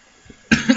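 A person lets out one sharp, close cough that bursts out of near silence and breaks into a couple of rough pulses.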